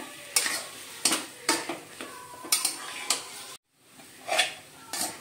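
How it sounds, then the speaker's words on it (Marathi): A spoon scrapes and clanks against a pan while mixing a vada pav potato filling seasoned with salt and coriander, several distinct strokes in a loose rhythm over a faint sizzle, close by, with a brief dropout near the end. "हे सगळं आपण आता मिक्स करूया।"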